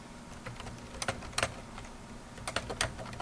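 Keys clatter on a computer keyboard in short bursts of quiet, close clicks while text goes into a Word document, with a steady low hum underneath and no voices.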